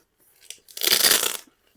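A short, loud ripping rasp of a strong Velcro fastener on a pencil case being torn open, preceded by a few soft rustles, then quiet.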